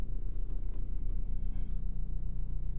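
Chalk or marker scratching across a board while a math problem is worked out, a continuous close rubbing stroke with short pauses, no voice over it.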